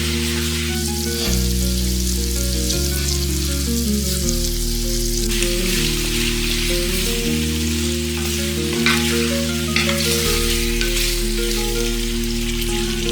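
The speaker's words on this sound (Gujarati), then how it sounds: "ફૂલ ગેસ ઉપર પોટેટોને સરસ મસાલામાં શેકાવા દઈએ" Steady, dense sizzling of potatoes frying in spices in a hot pan over a full gas flame, loud and continuous, with a low background hum running underneath.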